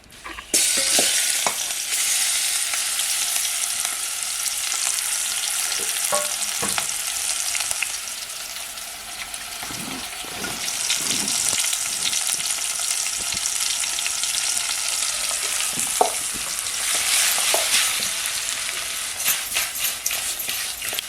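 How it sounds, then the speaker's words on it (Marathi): Fish fries in a pan with garlic as spices are stirred in, a loud steady sizzle with occasional scraping stirs, close and without speech. "हे जे मसाले टाकलेत सगळे तर हे मिक्स करून घेते आहे मच्छीला"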